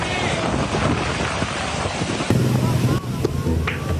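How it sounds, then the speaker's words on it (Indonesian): Strong wind roars steadily during a heavy rainstorm in Bogor, West Java, a dense broadband buffeting that continues throughout with a voice faintly present underneath. "Hujan dan angin kencang melanda wilayah kota Bogor, Jawa Barat Kamis sore."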